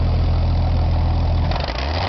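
A Hobart welding machine's engine idles steadily with a low, even rumble, settling down in speed near the end; close and loud, with no voices.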